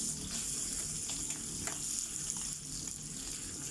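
Pork belly sizzles on a grill, a steady, quiet hiss with faint crackles and pops, heard alone without talk.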